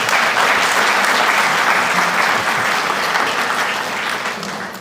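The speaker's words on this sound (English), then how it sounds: "You can clap at that one, it's a big deal." Loud, sustained audience applause at a firefighter academy graduation ceremony, a dense roar of many hands clapping close by that holds steady and then tapers slightly toward the end.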